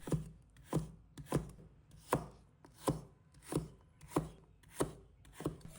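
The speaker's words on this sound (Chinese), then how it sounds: "我们准备半根胡萝卜，把它切成厚片，再切成条， 然后切成小粒。" A knife chopping half a carrot into small dice on a wooden board, evenly spaced crisp thuds about every 0.7 seconds, close and quiet, with no voices.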